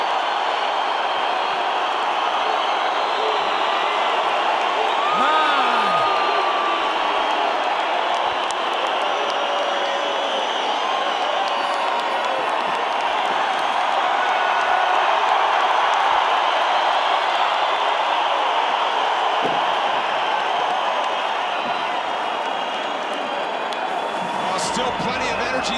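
A UFC arena crowd roars after a knockout, a loud, dense, sustained cheer that swells and holds, with commentary voices over it.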